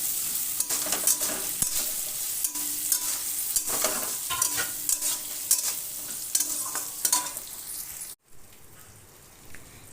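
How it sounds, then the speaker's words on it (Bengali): Ground coriander and pepper paste with salt and turmeric sizzles in a pan while a spoon stirs and scrapes, a close crackling fry with tapping strokes that cuts off abruptly to a quieter hiss near the end. "দিয়ে দিলাম পরিমাণ মতো লবণ ও হলুদ, দিয়ে ভালো করে কষিয়ে নেব"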